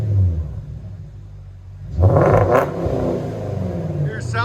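A 2017 Porsche Cayenne S with a 4.8L V8 and dual exhaust fitted with Vibrant resonators idles with a low rumble, then bursts into a loud, sharp rev that falls back to a throaty idle, recorded up close.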